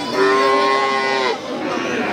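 A bull calf at a cattle market lets out one loud, drawn-out moo lasting about a second, close by, with faint crowd chatter underneath.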